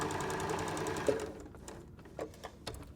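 A sewing machine stitching a seam on a fabric peg bag, its needle running in a fast steady rhythm up close, then slowing and stopping with a few clicks and short bursts.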